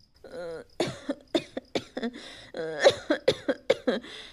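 A string of repeated coughs, close and fairly loud, in quick rough bursts with a raspy throaty voice between them.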